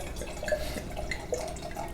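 Red wine, a 2018 Quails Gate Foch, is poured from a bottle into a glass, giving a soft, close liquid trickle with faint drip-like glugs over a low steady background.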